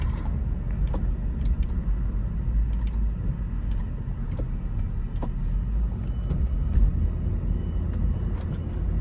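An older BMW E46 sport wagon in need of new spark plugs and with a bad air pump drives along, a steady low engine and road rumble from inside the cabin with faint ticks and rattles and no talk.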